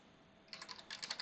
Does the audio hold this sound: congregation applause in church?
no